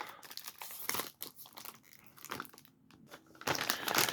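Taped-up packages of AR15 parts are torn open by hand, giving bursts of crinkling, crunching and ripping tape and plastic up close, loud and irregular, with no talking.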